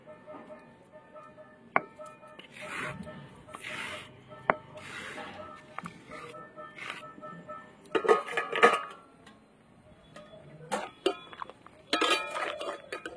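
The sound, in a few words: cutting pointed gourd for fritters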